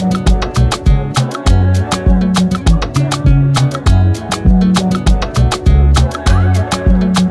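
Varied drum loop pattern programmed in Ableton, playing a loud, punchy electronic groove of kick, snare and rapid hi-hat hits with a bassy tone under it, repeating in tight even rhythm throughout.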